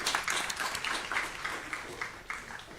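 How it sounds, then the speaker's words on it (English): Applause at a school district governing board meeting, a faint, moderately dense patter of clapping hands that continues steadily and thins slightly toward the end. "let's give a round of applause to Johnny White and their 4th grade Oma"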